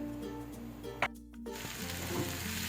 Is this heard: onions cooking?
yes